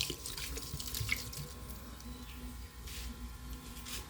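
Liquid fermented feed mixed with Orobiotix Aqua Maintenance is poured into a container, giving a steady, moderately loud trickling splash that runs for about four seconds without a break.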